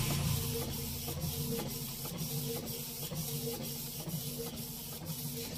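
An ordinary printer printing a bank passbook, with rhythmic mechanical strokes roughly every half second over a steady whir, close and alone.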